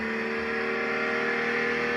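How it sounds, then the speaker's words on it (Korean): A BMW 740 engine revs steadily under acceleration while driving, giving a loud, continuous hum with a smooth, low-pitched tone and no talking. "이제 한 번 더 가속하겠습니다."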